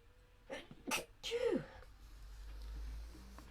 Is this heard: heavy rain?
no